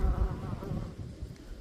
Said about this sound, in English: it's absolutely full of bees